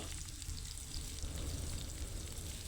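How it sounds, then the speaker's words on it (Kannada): Thin slices of bitter gourd crackle and sizzle in hot oil in a kadai, a steady, close frying hiss that runs the whole time with no voices. "ಆಯಿಲ್ ಬಿಸಿಯಾದ ನಂತರ ಕಟ್ ಮಾಡಿಟ್ಕೊಂಡಿರುವಂಥ ಹಾಗಲಕಾಯನ್ನು ಹಾಕ್ಕೊಳ್ತಾ ಇದ್ದೀನಿ"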